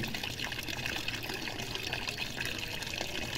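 Cool water from a tank is poured over long hair for washing, a continuous close splashing pour that flows steadily without a break.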